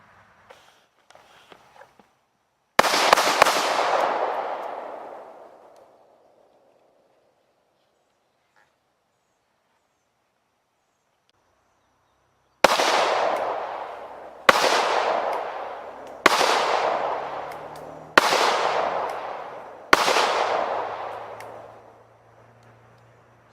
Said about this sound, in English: To test the FN57 and the rugged Oculus suppressor, we're going to use some FN ammo.